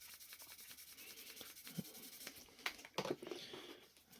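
Car bodywork on a 1997 Volvo S40 BTCC race car is sanded smooth before painting, giving quiet, close rubbing and scraping strokes with a few sharper scuffs toward the end.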